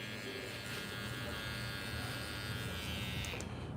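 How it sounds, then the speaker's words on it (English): Electric hair trimmer buzzing steadily up close while finishing a fade haircut, a continuous even drone throughout. "So I actually like to use just a trimmer."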